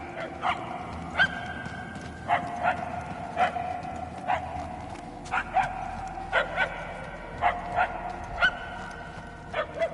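Sharp, fairly loud barks from a dog come in short bursts with brief gaps between them, over a steady low background rumble.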